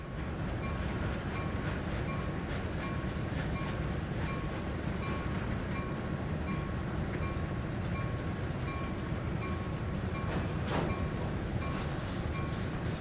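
A train rolls steadily along the rails, pushed back toward the sheds, with a continuous mid-level rumble and faint clicking throughout and a brief sharp squeal near the end.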